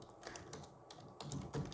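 Computer keyboard keys are pressed in a short, soft cluster of clicks, including the Enter key, heard close and faint with no talking.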